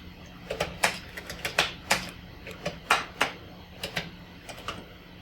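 Keys clack on a silver label Commodore 64 keyboard, an irregular run of sharp, close taps, some louder than others, with short pauses between bursts over a faint steady hum.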